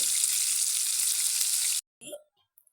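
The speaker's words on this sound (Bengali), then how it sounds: "আমার চিকেনটা অনেকটাই ভাজা ভাজা হয়ে গেছে" Loud, even sizzle of food frying in hot oil for almost two seconds, then it cuts off, leaving a few brief clinks.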